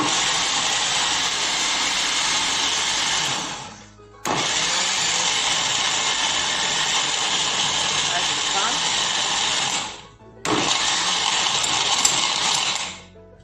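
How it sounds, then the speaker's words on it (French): A kitchen blender on its Ice Crush setting roars loudly while crushing marinade ingredients for braised fish, running in three long bursts separated by brief stops, with the motor whine dominating throughout. "Donc là, c'est dans le mixeur. Je vais fermer et je vais mixer."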